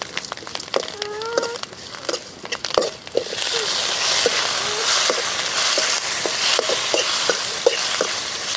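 Raw papaya pieces frying in a pan for a Tamil-style papaya stir-fry, with a steady broad sizzle that swells louder partway through, broken by repeated sharp scrapes and taps of a spatula stirring.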